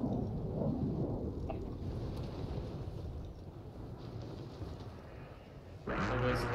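A video-game thunderstorm rumbles low and continuous with rain and wind, fairly faint under the game mix, and a louder crackling burst near the end.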